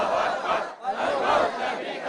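Crowd of armed Houthi fighters chanting slogans at a rally in Yemen, a dense roar of many voices rising in two loud rhythmic swells with a brief dip between.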